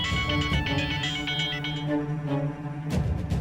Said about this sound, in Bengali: গ্রাম থেকে দিদার ফোন এসেছে